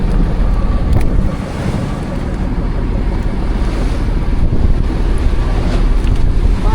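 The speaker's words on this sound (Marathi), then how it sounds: "वारा पण जाम सुटला आहे" Strong wind buffets a fishing boat out at sea during pomfret fishing as a storm comes up, a loud, steady roar of wind noise and surf that fills the whole stretch with no talk.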